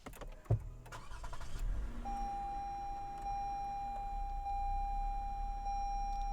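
A 2016 Lexus ES350 V6 engine cranks and catches after a brief thump, then settles into a low steady idle while a thin electronic chime rings over it.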